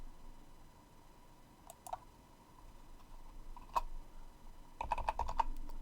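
Keyboard typing on a computer during a macOS Big Sur install in VirtualBox: a few isolated clicks, then a quick close burst of keystrokes near the end, over quiet room hum.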